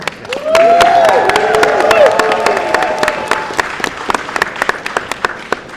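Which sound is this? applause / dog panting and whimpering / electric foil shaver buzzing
applause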